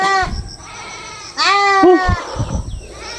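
Two loud, wavering bleats from an injured goat, one at the start and a longer one midway, followed by softer grunting animal noises close by.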